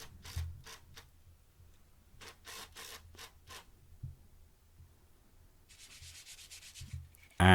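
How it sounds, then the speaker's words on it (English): Hand sanding on scrap wood in short bursts of rasping strokes, quiet and close, with pauses between passes and a sharp knock near the end. "And then I gave it all a hand sanding"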